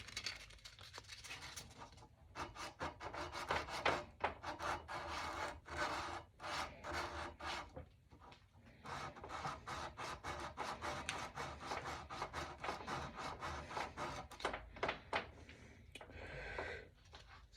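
Hand sanding a crown with 400-grit paper, a close, quiet, rhythmic scratchy rubbing in quick back-and-forth strokes with short pauses, continuing throughout with no talking.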